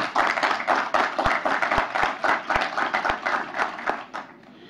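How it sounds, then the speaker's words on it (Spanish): Seminar audience claps in a steady, fairly close round of applause with a few sharp individual hand claps standing out, fading toward the end. "a quien le pido por favor un aplauso"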